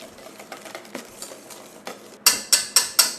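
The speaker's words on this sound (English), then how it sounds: "just need to whisk it all together" Carbonara sauce with black pepper is whisked in a bowl: a run of light rhythmic scraping taps, then four louder, evenly spaced metallic clinks against the bowl, close up.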